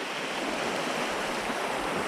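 Steady, loud roar of river water pouring over falls, a dense continuous wash heard up close with no voices over it.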